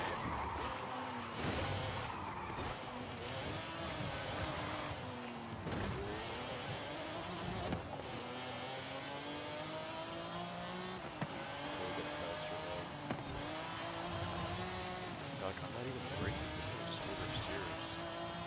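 A V12 race car in Forza Horizon 5 revs hard and rises through its gears as its tires skid and squeal through corners, loud and continuous under someone talking.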